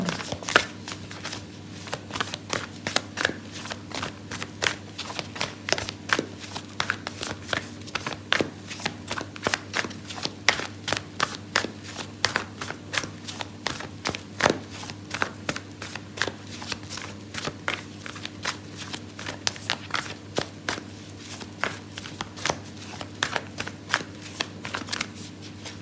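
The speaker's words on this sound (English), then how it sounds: "I'm going to pull out an oracle card for you" Oracle cards are shuffled continuously and close up, a dense run of rapid papery riffles and taps over a steady low hum, no voices.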